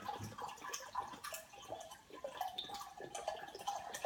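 Coconut water pours slowly from its container into a measuring jug for a homemade sports drink, a soft, steady trickling and dripping splash that runs close and fairly faint for about four seconds with no talk.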